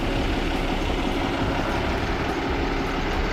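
Boat engines run steadily inside the engine room, a loud, dense, continuous mechanical roar with deep low rumble and no pauses.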